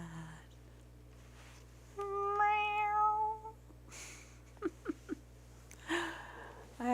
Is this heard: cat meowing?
yes